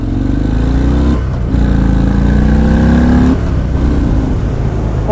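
A 2019 Harley-Davidson FXDR 114 motorcycle accelerating hard, its loud engine note climbing steadily in pitch through a gear, dropping briefly at a shift and then pulling on, heard close and continuous without speech.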